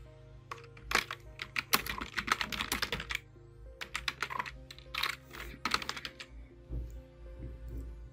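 Computer keyboard typing while a shop house number or shop name is entered into an online trade-license search form: irregular bursts of quick, close keystrokes with short pauses over a low steady hum, and no talking.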